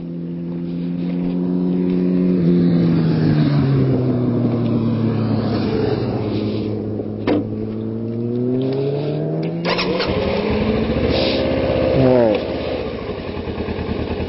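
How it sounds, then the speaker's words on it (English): A stock Kawasaki Ninja 650R motorcycle revs up close, its engine tone sweeping up and down in pitch across several throttle blips, loud and steady with a brief clunk near the end. "Ninja 650R. Oh yeah, it's stock. This is a stock bike."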